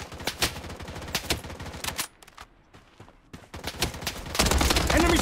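Rapid automatic gunfire in the shooter Blood Strike, with dense bursts of close shots, a brief lull of quieter scattered firing, then heavy sustained shooting resuming loudly.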